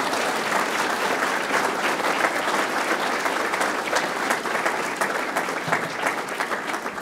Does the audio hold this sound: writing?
no